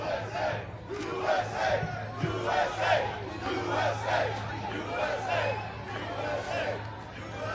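A loud outdoor crowd of Trump supporters in New York City keeps up steady cheering, chanting and shouting with overlapping voices, a continuous roar under a low steady hum.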